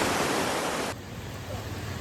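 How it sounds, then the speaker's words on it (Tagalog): A swollen river at a camping area after heavy overnight rain roars in a dense, steady wash close by. The noise is loudest at first, then settles slightly but keeps rushing without a break. "Lakas ng daloy."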